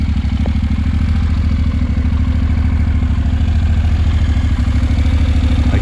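A Honda NC750X motorcycle with an Akrapovic exhaust idles steadily nearby, a loud, even low-pitched throb with a fast regular pulse and a light mechanical clatter on top.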